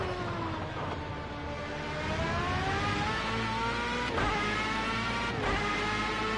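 A Formula A single-seater engine in Project Cars 2 whines steadily higher, then breaks with quick upshifts. The tone rises smoothly between gear changes, loud and close, with no talk.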